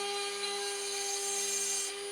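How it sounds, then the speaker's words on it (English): A small, inexpensive diamond bit drills holes through stone under water, giving a steady, continuous grinding whine with a sustained high-pitched tone, close and constant throughout. "As you can see, it's drilling quite quickly through there."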